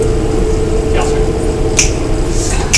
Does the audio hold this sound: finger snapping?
yes